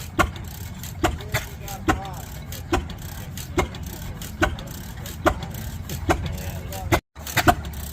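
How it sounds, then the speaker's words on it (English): Kruger Atlas hit and miss engines run at an agricultural show, giving sharp, evenly spaced firing pops roughly every second over a steady low mechanical rumble, close and loud. "These are Kruger Atlas hit and miss engines."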